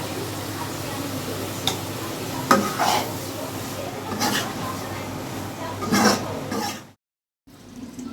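Chickpeas fry in plain oil in a home kitchen while being stirred, a continuous sizzle punctuated by scraping clinks of the utensil against the pan, then a brief silence before the sizzling resumes.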